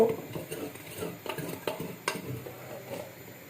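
Chopped onions dropped into a cooking pot while making kofta moong rice, with soft scraping, stirring and clinks of utensils against the pot in a few distinct bursts, close and fairly quiet.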